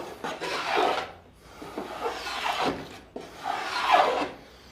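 A small hand plane takes thin shavings while chamfering the corner of a wooden edge, producing three loud rasping strokes with short pauses between them, close and alone.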